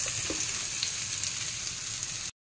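Garlic and onion fry in a pan with a steady, close hiss of sizzling oil that holds even and unbroken until it cuts off abruptly.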